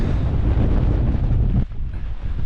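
Strong wind buffets a hilltop wild camp with a tarp-style shelter, a loud continuous roar and rumble of gusts hitting the microphone throughout, easing slightly near the end, with no talking.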